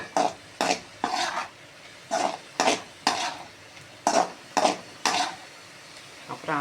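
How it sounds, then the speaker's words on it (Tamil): Food sautéed in a pan with a steady series of scraping stirs, about a dozen strokes in irregular rhythm, close and fairly loud over a soft sizzle, with no voices. "நல்லா வதக்கிக்கிட்டே இருக்கணும்."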